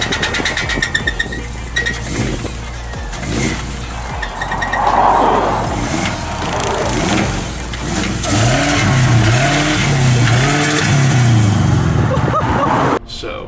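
A rebuilt Subaru Outback engine cranks and runs loud and close, revving and rumbling with uneven bursts of acceleration, with clinking and excited voices over it before it cuts out abruptly at the end.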